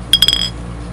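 Glasses clink together in a toast, a quick cluster of three or four bright chimes close up, then a short ringing tail fading into a quiet room.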